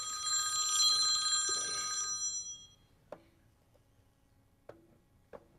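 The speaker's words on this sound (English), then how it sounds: "Your phone's ringing." A telephone rings during a city council meeting, a steady trilling bell lasting about two seconds, loud and close, followed by quiet room tone with a few faint clicks.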